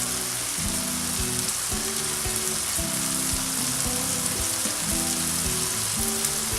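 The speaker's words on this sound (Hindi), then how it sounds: "इसे तब तक भूनें जब तक इससे ऑयल ऊपर नज़र नहीं आता" Masala with chopped green chillies sizzles in hot oil for a restaurant-style chicken handi, a dense continuous crackle under a low hum that pulses in steady rhythmic bursts, close and without talk.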